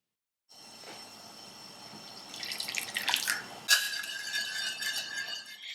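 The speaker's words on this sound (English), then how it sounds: "dissolve the espresso powder with the hot water and set it aside to cool." Hot water poured onto espresso powder for tiramisu, a thin splashing stream that grows louder and brighter, with a glassy clink partway through and no talking.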